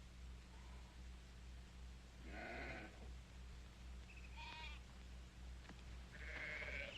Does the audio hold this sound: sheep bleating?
yes